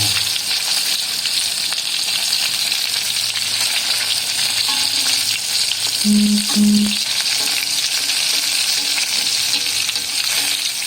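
Shrimp tempura bubbling in hot oil, a steady loud sizzle throughout with a brief low clunk of utensils near the middle.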